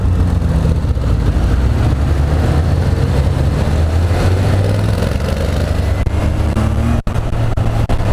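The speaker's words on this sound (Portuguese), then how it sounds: "é um motor bem suave, né? Característico aí dos 4 cilindros" A Honda CB 1000 R four-cylinder motorcycle engine runs as a steady, smooth, low hum while being ridden, holding a fairly even pitch with wind-like rumble throughout and no talking.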